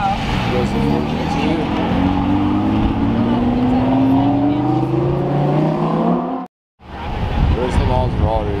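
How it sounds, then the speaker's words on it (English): Engines of departing sports and supercars leaving a car show, including a Koenigsegg, a Lamborghini-style 4GT and a Maserati, drone and rise in pitch as they pull away, with a crowd and voices talking over them and a brief dropout near the end. "Cars are starting to leave now."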